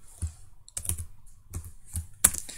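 Keystrokes on a computer keyboard while entering Python commands into the FreeCAD console, a few separate bursts of taps with pauses between them, close and fairly quiet, no talking.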